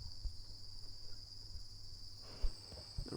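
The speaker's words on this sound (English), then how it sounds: "The roof is covered in these cave crickets. They're deafening." Constant high-pitched shrill drone of cave crickets massed on the roof of a cave on Australia's wild west coast, steady and unbroken, with faint soft bumps and shuffling underneath.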